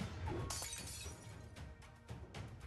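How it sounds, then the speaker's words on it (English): A glass-like shattering crash in the Arknights video game bursts in loud and close after a brief lead-in, followed by scattered tinkling fragments and further breaking bursts over about two seconds. "Sure enough, she hears the sound of shattering."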